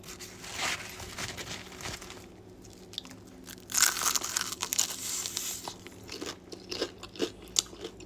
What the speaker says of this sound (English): Let's take a bite and try out that crunch.